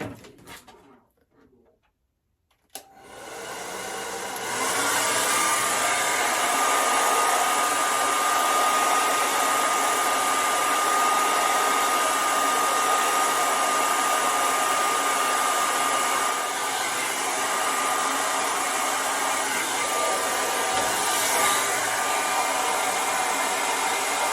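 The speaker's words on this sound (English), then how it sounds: "And then I will take my blow dryer." A hair dryer starts after a brief quiet moment and then blows steadily and loudly while drying curly hair, a constant whooshing whine that runs unbroken until the end.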